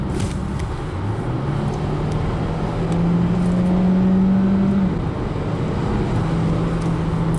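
A Peugeot 3008 1.6 Hybrid4 in sport mode accelerating hard from 80 to 120 km/h, heard from inside as a steady, loud engine drone rising smoothly in pitch over road and wind roar, with no talking.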